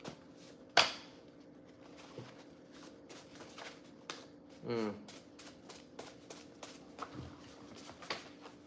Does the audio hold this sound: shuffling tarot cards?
yes